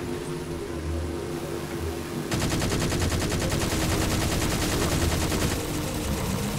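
Halo 4 gunfire breaks out after a quieter opening, turning into a sustained, rapid automatic burst that stays loud and dense to the end, with no talking over it.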